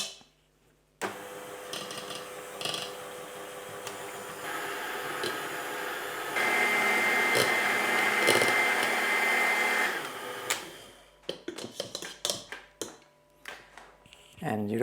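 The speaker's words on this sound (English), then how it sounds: "I'll use a mixer for this, but you can do it by hand if you want." Electric mixer whipping cream for a Danish risalamande, a steady close motor whir that starts suddenly, rises in pitch and strain midway, then cuts out, followed by scattered clinks and rustles.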